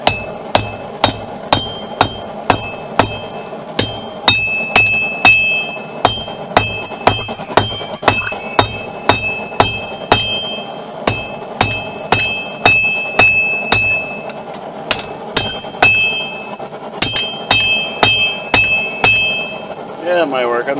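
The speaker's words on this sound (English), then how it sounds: "We're just gonna hammer down in here, thin it down, and draw it out just a little bit." Hot steel knife blank hammered on an anvil to straighten it, thin it and draw it out: a steady run of sharp ringing strikes in quick regular bursts with brief pauses, loud and close, no talk.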